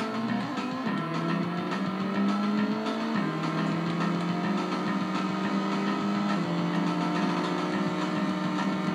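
A motorcycle engine racing in the Road Rash video game on the 3DO, a steady loud droning whine with shifting pitch as it revs and changes gear, continuous throughout with no talking.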